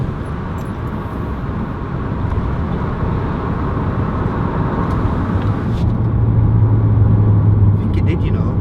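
A VW Golf R driving with traction control switched off, with a steady, loud engine drone and road roar throughout and a low tone rising toward the end.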